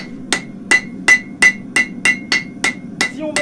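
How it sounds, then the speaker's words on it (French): Hammer blows flattening weld beads on a modified Mustad steel horseshoe, about ten sharp ringing metallic strikes in a steady rhythm, close and loud with no talk. "Quelques coups de marteau, on les efface."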